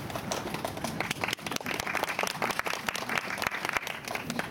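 A dense wash of clapping from a sizable audience, sustained and fairly loud throughout, with no clear break in the applause.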